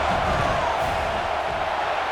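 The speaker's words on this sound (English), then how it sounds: "This crowd trying to do its part to get inside the kicker's head." Stadium crowd noise swells before a field goal attempt in the College Football 26 video game, a loud continuous roar of many voices that holds steady throughout.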